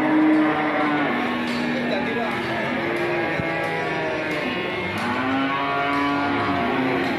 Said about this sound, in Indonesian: Ini ada sapi bakalan-bakalan juga.